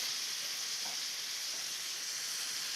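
Peppers sizzle in a hot pan as they go in, producing a loud, even frying hiss that holds steady throughout, near and alone with no speech.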